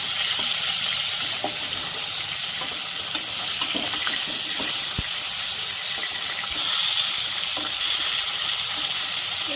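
Bhetki fish frying in hot oil in a pan, a steady close sizzle running throughout with a few small clicks and pops, no voices.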